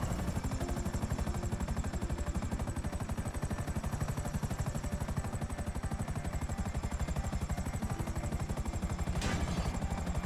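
A helicopter in GTA Online flying steadily, its rotor chopping in a fast, even pulse under a continuous engine whine, loud and close throughout with a brief sharp burst near the end.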